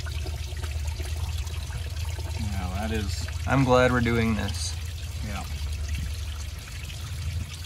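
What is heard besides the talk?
coolant and water draining from car cooling system during flush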